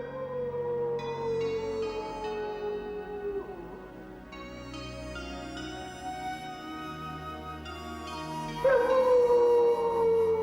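A cartoon wolf howls in a French animated Lion King Simba series, long tonal howls that rise and fall, several overlapping voices layered over background music, fairly loud.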